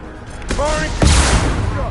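Bursts of gunfire in the video game Mass Effect 2, loud close cracks and a rolling blast overlapping a shouted voice and game effects.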